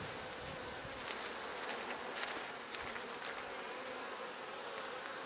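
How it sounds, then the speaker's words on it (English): Honey bees buzzing around frames being shaken off during a fall honey harvest, a steady dense hum that swells slightly in the middle and continues without speech. "I find the bees don't get happy when you shake them off their honey for some reason."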